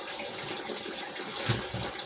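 Drinking water poured from one container into another at home, a steady splashing trickle running throughout with a brief louder splash near the end, and no talking.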